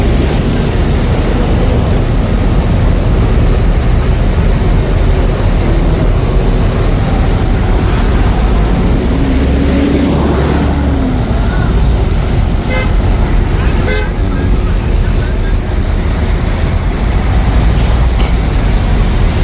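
Buses carrying Hajj pilgrims creep through heavy traffic between Muzdalifah and Mina, a loud steady roar of engines and road noise with horn toots and air-brake hisses rising above it.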